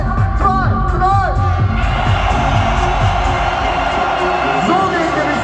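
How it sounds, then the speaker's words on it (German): An arena crowd at a motocross freestyle show in Dortmund's Westfalenhallen roars and cheers continuously, with loud whoops and shouts that rise and fall over a dense, steady wall of applause. "Jetzt zeigen wir denen da drüben mal, wie ein richtiger Applaus aussieht bei Louis Freestyle"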